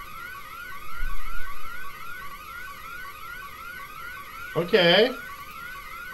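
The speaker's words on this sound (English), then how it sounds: "What's the alarm?" An alarm in the video game Bad Dream: Coma sounds as a steady warbling electronic tone throughout, while a voice speaks briefly over it near the end.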